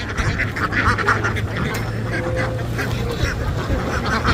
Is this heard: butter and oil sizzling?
no